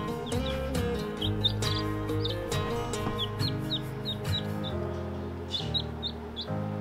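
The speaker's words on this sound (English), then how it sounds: "It's a cute chick, isn't it?" A small newly hatched chick peeps repeatedly in short high chirps, close and clear, scattered over a low rumbling background.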